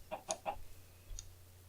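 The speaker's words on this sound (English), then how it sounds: "We might end up with all the chickens by day 300." Chickens in a modded Minecraft-style video game cluck in a few short, close bursts at the start, then fall silent apart from one faint final cluck.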